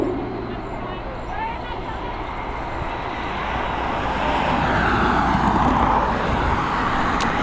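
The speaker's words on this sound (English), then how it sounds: "Next up, we have a Boeing 737 MAX coming in from Carcassonne." A Boeing 737 MAX landing at Dublin Airport gives a distant, steady jet roar that slowly swells louder over several seconds, set against constant outdoor background noise.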